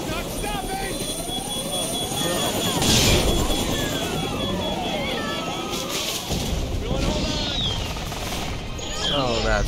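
A helicopter in Jurassic Park The Game drones continuously throughout, with rotor and engine noise swelling at moments, while voices speak over it.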